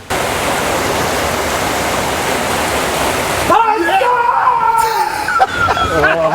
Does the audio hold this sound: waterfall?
yes